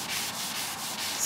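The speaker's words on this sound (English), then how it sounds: "Go sanding." Steady hand sanding on a Ford Transit van's bump-out panel, a close, even rasping scrape in slow repeated strokes, with no talking.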